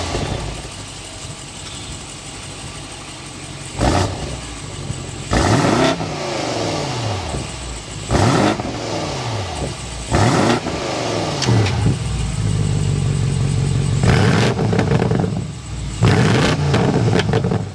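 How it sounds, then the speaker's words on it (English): A 2023 BMW M850i Convertible starts up and revs repeatedly, sharp exhaust blips rising and falling over a steady idle, close and loud, with no talk over it. "start it up so you can hear that exhaust more"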